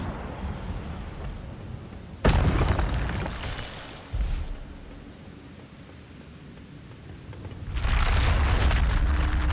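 Incendio fire spell cast in Hogwarts Legacy: a sudden loud whooshing burst of flame that roars broadly, fades over a couple of seconds, then flares again with a second swell of fiery noise near the end.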